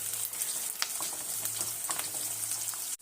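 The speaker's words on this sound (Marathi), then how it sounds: "काजूचे पाकळ्या हे देखील आपल्याला ह्यातच भाजून घ्यायचे व्यवस्थित" Quiet, steady sizzling and light crackling of cashews roasting in a pan, with a few scattered pops and no talking.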